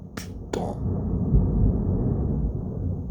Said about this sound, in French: l'orage il s'est activé d'un coup là